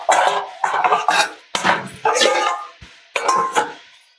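A lid is set on a cooking pan of broccoli with small fish, making brief metallic clinks and knocks while a person talks over them.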